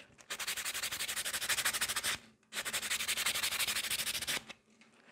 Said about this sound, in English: I just have to use the buffer.